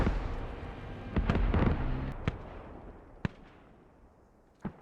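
Mortar rounds exploding in a video game battle, a rumbling barrage at first that fades into a few sharp, scattered distant blasts.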